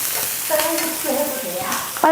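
Late-season chili peppers stir-fry in hot oil with a close sizzle, while a utensil turns them with short scraping strokes and ends with a sharp clack.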